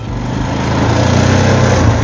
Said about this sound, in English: Definitely gonna need a larger chainsaw for this beast.